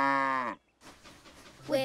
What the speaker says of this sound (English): Do tractors moo? No. But cows do!